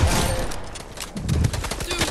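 Rapid video game gunfire bursts out in a loud, dense fusillade with machine-gun-like rattling, mixed with excited shouting players talking over the shots.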